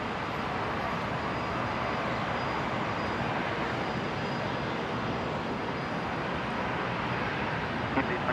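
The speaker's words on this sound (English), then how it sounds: "Next arrival, Jetstar 482 coming in from Newcastle, 19 left." A Jetstar airliner arriving at Brisbane Airport roars as a steady, loud, broadband engine rush that holds at one level throughout, with no voices over it.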